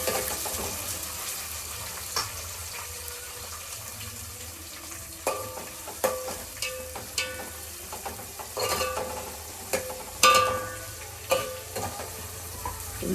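Onions frying in a pan for traditional chapala pulusu fish curry, a low steady sizzle with scattered clinks and stirring scrapes, plus a brief run of tap water in the background.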